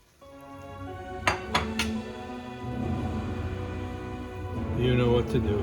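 A spoon clinks against a pot of risotto a few times, then steady scraping and stirring continues with a soft sizzle underneath, while someone talks.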